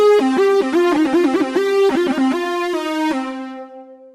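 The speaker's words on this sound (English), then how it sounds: "So this is the porta lead sound." A synthesizer porta lead plays a legato melody, each note sliding smoothly into the next through every pitch in between, bright and harmonically rich, alone and fading out at the end.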